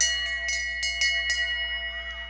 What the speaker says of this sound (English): Bell lap.